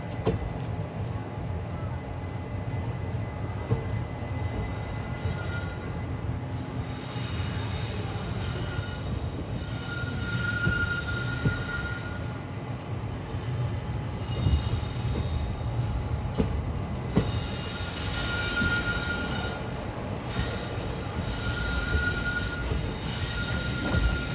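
The Rajkot–Bhuj daily special train rolls steadily along the tracks while changing track, with a continuous rumble, rhythmic wheel clatter and intermittent high metallic squeals from the wheels.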